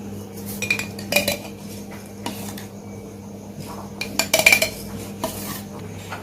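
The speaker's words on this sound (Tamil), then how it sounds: "இப்போ இதில் இந்த பாட்டிலில் எடுத்து வச்சுக்கலாம்" A spoon clinks and scrapes against glass and metal while homemade tamarind paste is transferred into a bottle in a home kitchen, with irregular close clatters and short taps, no talking.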